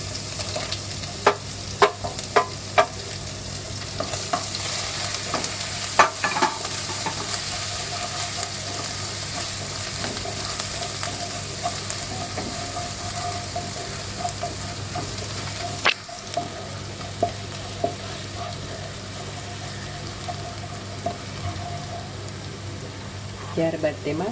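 Curry leaves and ginger-chili-garlic paste frying in a pan, with a steady low sizzle throughout and occasional sharp clicks and taps of a utensil, nothing else standing out.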